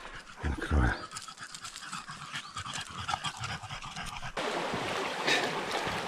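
Dogs pant heavily and close up after swimming in a forest stream, rapid breathy puffs with a faint whimper, followed by a steadier wash of water noise.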